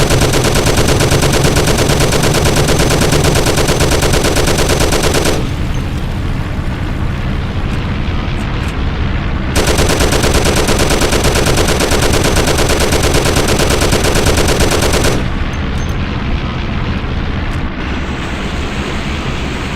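Sustained bursts of automatic gunfire from a shootout in the video game Mafia: The City of Lost Heaven, loud and dense, pausing briefly twice before resuming, with no talk over it.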